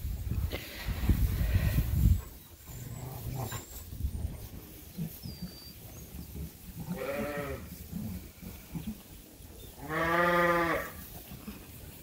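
Sheep, ewes among them, bleat inside a farm barn at the feeder, with two clear drawn-out bleats near the end above shuffling, rustling barn noise and scattered thumps.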